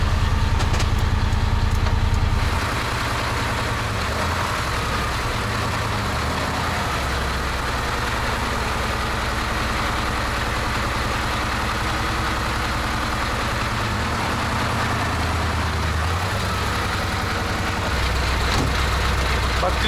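A Kamaz 4310 truck engine, newly bought after sitting unused for a long time, runs at a steady idle with a deep, even low rumble that shifts slightly in tone early on and then holds close and constant.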